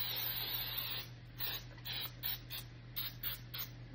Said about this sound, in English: I'm gonna just simply place some baking spray in